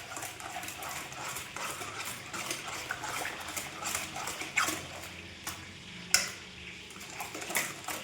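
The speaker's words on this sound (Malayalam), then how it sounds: "ഒന്നും കൂടെ ഒന്ന് മിക്സ് ചെയ്ത് കൊടുക്കാം." Homemade wine ingredients with yeast are stirred in a vessel, giving soft, continuous scraping and swishing with a few sharper knocks of the spoon against the container, fairly quiet and close.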